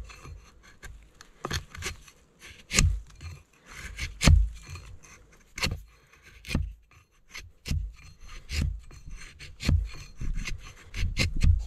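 A sharpened dollar-store hatchet shaves thin curls off wood in a series of short, crisp scraping strokes, about a dozen spaced through the stretch, close and fairly loud with quiet gaps between cuts.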